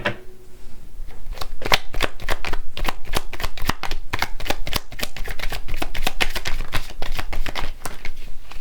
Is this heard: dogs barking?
no